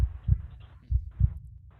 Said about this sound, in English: you hear your heartbeat in the silence